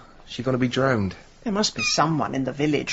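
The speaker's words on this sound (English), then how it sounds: "That's a cat." A runt kitten from a litter meows in a BBC radio drama, with several loud plaintive mews running under and between a woman's speech.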